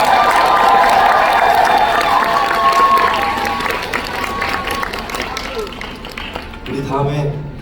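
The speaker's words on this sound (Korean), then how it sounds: "감사의 박수 한번 부탁드립니다." Audience at a rock band's closed beta concert applauding and cheering, a dense wash of clapping and crowd noise that is loud at first, then thins and fades toward the end.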